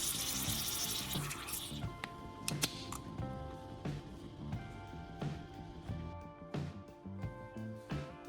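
An empty Coca-Cola can being rinsed out with water, steady running-water hiss with scattered light metallic clinks and taps against the thin aluminum, close and continuous throughout without talk.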